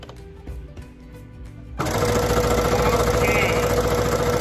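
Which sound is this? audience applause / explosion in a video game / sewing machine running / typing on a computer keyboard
sewing machine running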